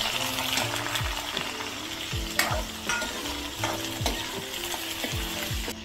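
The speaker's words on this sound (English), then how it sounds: "Sliced onions go in next." Sliced onions frying in a pan with jeera and fenugreek seeds for Punjabi kadhi, a steady close sizzle broken by repeated stirring scrapes, with no talk.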